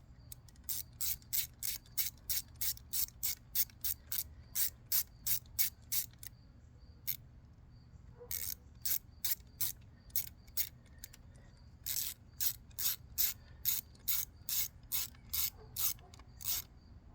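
A ratchet with a 10 mm socket tightens ignition coil bolts on a 2004 Volvo S60, close and crisp, with runs of quick clicks separated by short pauses.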